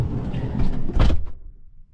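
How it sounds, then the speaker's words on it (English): A sliding side door on a converted 6 m Ford Transit campervan rolls along its track and shuts with a loud, close thud, then the sound settles into quiet. "Closing the door."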